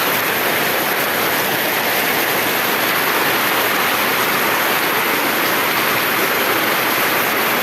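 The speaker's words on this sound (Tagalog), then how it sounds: "Wala pong tigil ang ulan, oh." Heavy rain pours down at Gentri Homes in a dense, unbroken hiss, loud and steady throughout with no pauses.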